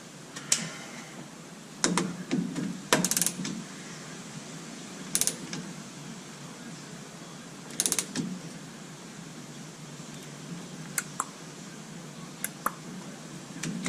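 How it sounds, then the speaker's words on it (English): Torque wrench tightening brake bolts on a GMC Sierra rear brake, giving scattered sharp ratcheting clicks and creaks in short bursts with quiet gaps between, close by. "Grab the torque wrench."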